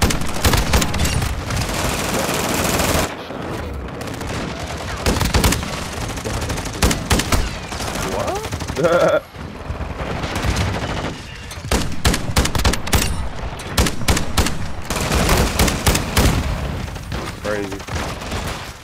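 Rapid, loud gunfire bursts from shotguns and automatic weapons rattle through a Call of Duty: Modern Warfare II match on the Shipment map, nearly continuous with brief pauses, while a player talks over it.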